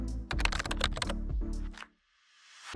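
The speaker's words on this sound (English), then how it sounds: "We can start typing right away, and then navigate the menu with our arrow keys, and press Enter once we found the result that we need." Rapid clicking on a computer keyboard, a quick burst of typed keys followed by a few separate arrow-key taps, close and crisp, then silence.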